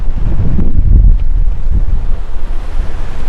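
Strong gust of wind ahead of a storm front during a dust storm in Boise, Idaho, a loud close roar battering the microphone throughout.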